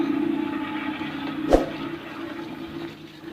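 Water gushes steadily from the outlet pipe of a 12V DC solar water pump in an irrigation setup, with a continuous rushing flow and a brief knock partway through.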